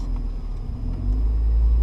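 A manual car's engine rumbles steadily in a parking lot, with a low, close drone that swells slightly as the gas is blipped during a rev-match downshift, no voices.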